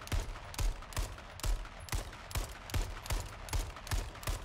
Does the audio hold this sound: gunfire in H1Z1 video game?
yes